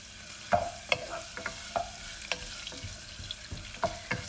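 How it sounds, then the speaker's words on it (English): A spoon stirs sauce for Asian chicken wings in a pan, giving quiet scraping clinks at an irregular pace over a faint sizzle, close by with no talking. "I'm just stirring the sauce"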